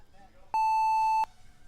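Start tones for a drone race lineup of quads at a Street League event in Citrus Springs: a steady electronic beep held for under a second, loud and clear over low background noise.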